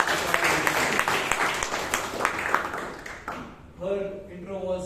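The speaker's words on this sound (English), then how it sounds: "please have give a round of applause to Toastmaster Shreya" A crowd at a Bangalore Toastmasters meeting claps in a dense burst of applause that tapers off, with a voice speaking near the end.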